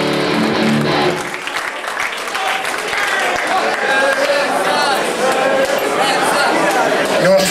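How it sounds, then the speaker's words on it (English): A concert crowd at a hardcore punk show cheers and claps after a set, a dense wash of applause and shouting that swells and stays loud, with chatter mixed in. "Give yourself a big round of applause."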